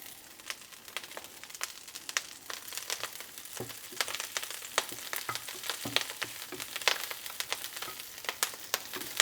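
Blanched lilac kale frying in butter in a frying pan, a steady crackling sizzle with scattered sharp pops and spits, close and moderately quiet with no talking.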